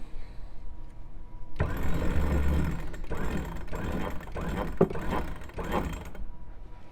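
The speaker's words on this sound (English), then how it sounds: "So when we activate the winch, we'll see how it just loads up the correct way." A sailboat winch turns under power as a sheet is fed from the bottom up, giving a steady mechanical whirring and ratcheting with a few clicks, starting abruptly and stopping after several seconds.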